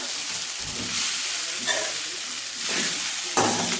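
Poha being stirred in a pan on a low flame, with repeated scraping strokes and a soft sizzle at a steady rhythm, close and clear, with no talking.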